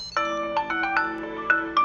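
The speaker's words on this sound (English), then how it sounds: "It makes my phone ring." A phone rings after being triggered remotely from a Tile tracker, a close, loud electronic ringtone of repeating melodic tones with short gaps between notes.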